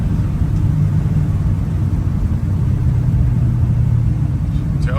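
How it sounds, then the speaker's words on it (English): A 1969 Chevrolet K10 pickup rumbles steadily on a snowy road as it pulls away, its mid-range engine drone loud and continuous, close to the cab throughout. "then we'll take off and go through the shift"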